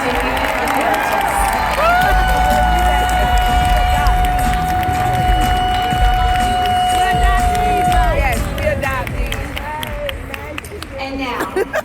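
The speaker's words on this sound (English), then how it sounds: "Let's give them a big round of applause and thank them for supporting their amazing Emeritus" An audience at an emeritus graduation celebration applauds and cheers, with a steady wash of clapping and crowd noise mixed with music and voices throughout.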